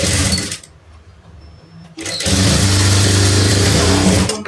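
Loud electric sewing machine stitching a pleat on a blouse, two bursts of fast buzzing machine running separated by a short pause.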